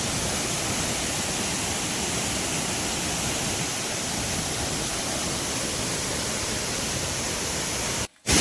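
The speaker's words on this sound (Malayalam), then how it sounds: "ചെറിയ ചെറിയ വെള്ളം ഇങ്ങനെ ചാടി ചാടി പോകുന്നതായിട്ട് കാണാം" Continuous rushing water roars steadily at Mankayam waterfall near Idinjar, Kerala, a dense even wash of noise with no voices, cutting out briefly near the end.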